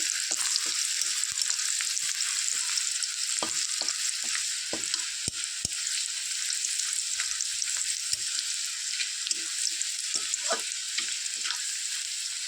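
Chopped onion sizzles in oil for traditional Bengali tel koi, a constant close hiss with intermittent crackles and soft stirring clicks spread across the stretch, no voices present.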